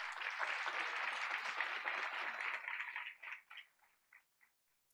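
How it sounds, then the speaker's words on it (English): Audience applause fills a school board of education meeting, steady and dense for about three seconds before thinning into a few scattered final claps and fading to silence. "Let's give him a round of applause."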